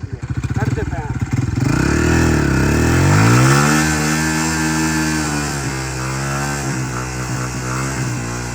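A motorcycle stuck in mud starts up and revs hard, the engine pitch rising and falling through strained, loud accelerations close by, with someone talking over it.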